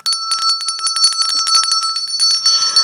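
Hand bell ringing rapidly and steadily, a bright metallic clanging with sharp repeated strikes close to the microphone, ending in a brief rustle.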